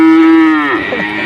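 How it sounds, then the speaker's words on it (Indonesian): A cow moos once, a long loud low call that slides down and breaks up near the end, close by at a cattle market in Grabag where livestock are being bought. "ini sapi apa ini"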